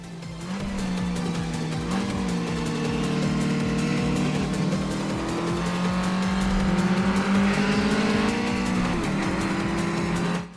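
A race car engine on a mountain pass in a touge racing video game, holding a steady, loud drone with rising and falling revs throughout.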